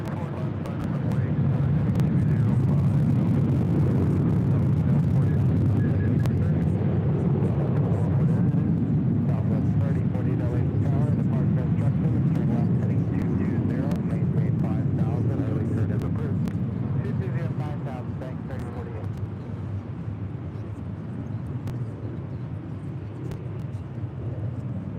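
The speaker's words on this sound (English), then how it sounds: "This is Delta 811 departing to Miami on a 737-900 ER." Delta Boeing 737-900ER jet taking off from runway 24 left at LAX: a steady, heavy low roar holds throughout, then eases slightly toward the end, with voices faintly present.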